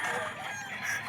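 Fighting roosters crowing at a gamefowl farm in Bocaue, in a dense overlapping chorus of several birds near and far, with steady clucking and crowing running throughout.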